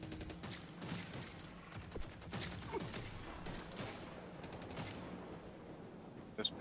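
Pistol and shotgun shots in Redfall, a vampire-hunting shooter game: quick, fairly faint volleys of gunfire cracking in irregular bursts, with a sharper pair of shots at the end and no talk over them.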